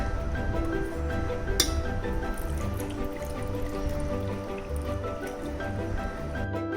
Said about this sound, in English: Now I am adding this 1 glass of water in this bowl.